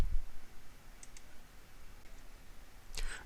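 Mouse clicks on a software button in a job-report program, heard as a couple of faint, sharp clicks near the middle and a louder click at the end over a quiet background.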